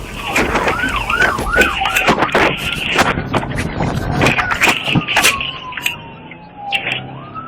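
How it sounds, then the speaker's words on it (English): Police car siren wailing during a high-speed pursuit, its rising and falling yelp loud and close over steady road and engine noise, sweeping up and down repeatedly, with brief sharp knocks and bursts along the way. "The Trooper activated his lights and siren and initiated a pursuit."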